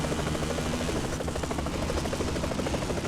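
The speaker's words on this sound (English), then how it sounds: "Man, that helicopter is low to the ground." Low-flying helicopter in the MTX Mototrax motocross video game, a loud steady rotor buzz with a fast thumping pulse that fills the whole stretch alone.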